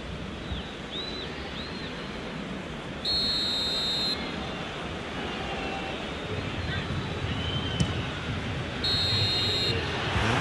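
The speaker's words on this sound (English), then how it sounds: "And the whistle's gone, presumably for offside." Referee whistle in the football video game eFootball PES 2020, during a Juventus v Barcelona Champions League match: two short, shrill blasts a few seconds apart, cutting through a steady roar of stadium crowd noise.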